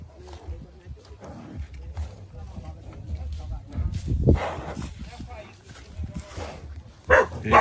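A dog barks at a cattle corral on a farm, with the barks mixed among outdoor noise and people talking over them throughout.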